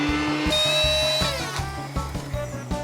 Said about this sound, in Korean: 시금치를 믹서기에 넣고 갈아주세요.